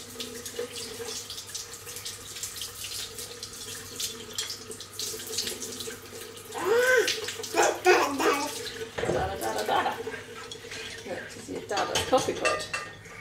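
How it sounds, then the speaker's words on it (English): Tap water runs steadily into a sink as a coffee plunger is rinsed, with clinks of the pot, splashing that swells midway, and a person talking over it. "let's just rinse it off the plunger a bit"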